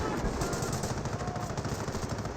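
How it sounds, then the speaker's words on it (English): Artillery barrage from 25-pounder guns in the World War II strategy game Company of Heroes, a dense continuous rumble of overlapping blasts and rapid crackling impacts, loud and sustained without a break. "No, that is the actual barrage."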